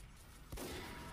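Sniper rifle headshot in Team Fortress 2, a single sharp crack about halfway through followed by a sustained noisy wash, fairly quiet overall.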